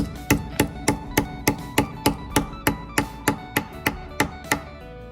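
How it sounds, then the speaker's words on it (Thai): Repeated sharp hammer blows at a steady, fairly quick rhythm, about sixteen ringing metallic strikes driving a concrete anchor for an air conditioner installation, close and loud. "แล้วเราก็ตอกเลยครับ"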